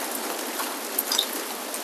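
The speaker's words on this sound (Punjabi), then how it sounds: "ਗੜੇ ਹੀ ਗੜੇ ਆ ਗਏ ਆ" Hail falls during a storm in a village in Bathinda district, Punjab, making a dense, even patter of ice hitting surfaces. It holds steady throughout, with a few sharper clicks.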